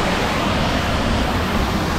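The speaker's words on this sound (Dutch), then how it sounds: "Oh, en we hebben nog een waterval." A waterfall on an Efteling theme park water ride roars as a loud, dense, continuous rush of splashing water that fills the whole stretch, with no voices heard.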